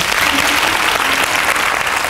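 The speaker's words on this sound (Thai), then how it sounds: "ขอเสียงปรบมือเลยครับทั้งห้องส่ง" A studio audience at a Thai television singing competition applauds, a dense, continuous burst of clapping that stays loud and even throughout the short stretch.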